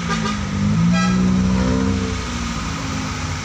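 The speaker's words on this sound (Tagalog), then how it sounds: "Ganyan kahaba yung traffic dito mga lods." Busy city street in Baguio with a long line of stalled traffic, a car horn sounding near the start over the steady rumble of idling and creeping engines close by, continuous throughout.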